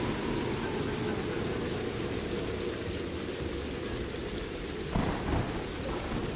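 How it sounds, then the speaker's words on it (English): A video game thunderstorm with slime rain produces a dense, steady wash of heavy rain under a low rolling rumble, with a sharper thunder crack near the end; loud and continuous with no talking. "Is this slime rain during a thunderstorm?"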